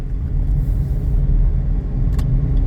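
Inside a car driving through rush-hour traffic in Cebu City, a loud, constant low road and engine rumble fills the cabin, with a brief hiss partway through.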